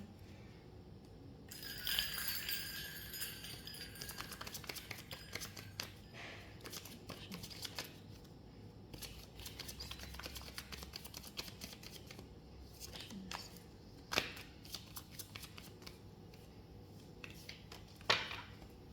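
Tarot cards are shuffled by hand during a reading, giving a run of soft riffling flicks and papery slaps with a few sharper snaps, close and quiet, with no talking.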